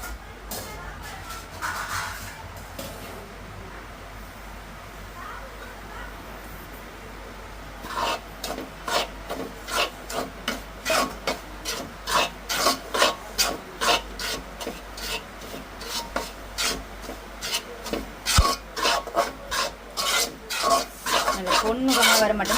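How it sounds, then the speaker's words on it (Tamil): Semolina (rava) roasting in ghee as it is stirred, giving a rhythmic rasping scrape of a spoon through the dry grains in a pan, faint and sparse at first, then steady and repeated close up. "ரவையை வந்து வறுப்போம் நெய்யிலே"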